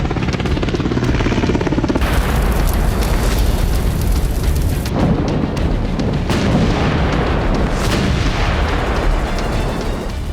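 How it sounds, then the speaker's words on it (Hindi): Missile strike explosions during the Russian attacks on Ukrainian cities and energy infrastructure: a dense, continuous roar with several heavy booms surging out of it, loud and close, with no voices. "वॉर ग्राउंड में होते ये धमाके, ये तबाही रूसी राष्ट्रपति व्लादिमीर पुतिन का प्रतिशोध है।"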